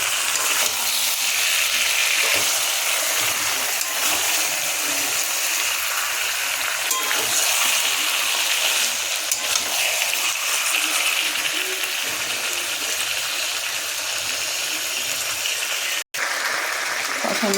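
Chicken pieces are stirred and sautéed in a pan for a home lunch curry, giving a steady hissing sizzle with scraping and clinking of the utensil, close and continuous, with a brief cut near the end.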